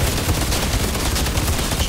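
Loud, unbroken rapid-fire shooting from the video game Outriders rattles on steadily for under two seconds with no speech over it.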